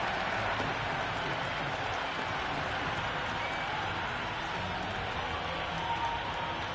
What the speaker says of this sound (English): all these spectators here today completely enthralled and energised, judging by that noise anyway